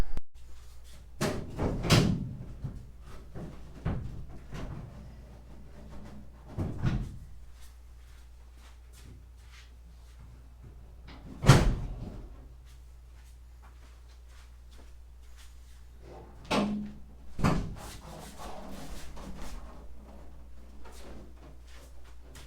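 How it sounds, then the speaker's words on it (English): Hood of a Datsun 240z with an LS engine being worked open, a few sharp metallic clunks and latch knocks spread out among quieter shuffling and handling sounds, close by with long quiet gaps and no speech. "get this hood up"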